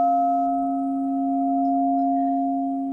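A singing bowl made of mixed metals hums with a steady, sustained tone of layered pure pitches, soft and even, with gentle swells in loudness and no talking.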